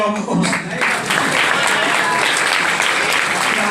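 An audience at a school farewell party claps loudly and continuously. The applause is dense and steady, with voices mixed faintly into it.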